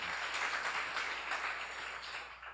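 A seminar audience at a church lecture claps together briefly, a soft, fairly distant patter of applause heard alone.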